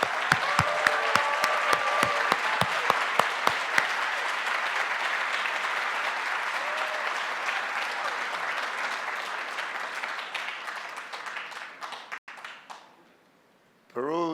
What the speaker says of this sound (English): So please help me giving Tony a big hand of applause.